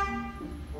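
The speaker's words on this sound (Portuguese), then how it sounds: "Aqui tem a buzina." A new car's horn gives one brief, close toot, a steady tone lasting under a second.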